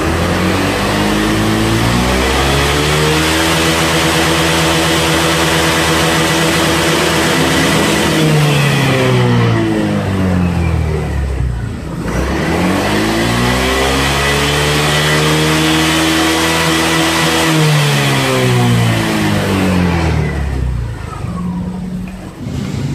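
A Honda Vario 125/150 scooter with a faulty speedometer revs hard twice, its engine pitch climbing steeply then dropping back, the second sweep following right after the first, loud and close with no talk.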